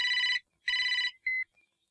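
A telephone rings twice in quick electronic trills, followed by a short higher beep, clear and close in an otherwise quiet room.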